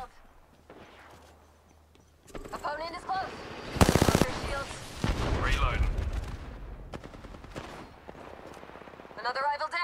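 Bursts of gunfire in the battle royale game Apex Legends, with a loud heavy volley in the middle and rapid automatic fire recurring through the clip, mixed with game voice callouts and other action sounds.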